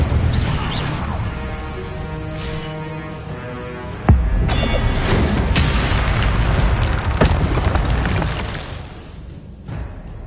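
An Incendio fire spell in a Harry Potter video game lets out a sudden booming blast, with crackling explosive rumble that swells and fades over several seconds.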